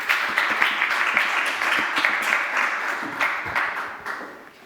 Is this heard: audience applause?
yes